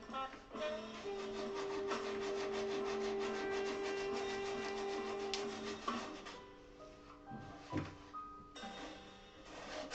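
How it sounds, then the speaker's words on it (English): Hand sanding with a small triangular sanding pad in the inside corner of a rough salvaged wooden bench, a steady close scratchy rubbing that stops and restarts in shorter strokes toward the end. "I'm just going to take this little triangle and sand it in this inside corner"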